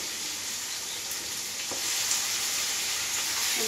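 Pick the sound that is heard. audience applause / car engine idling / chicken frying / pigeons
chicken frying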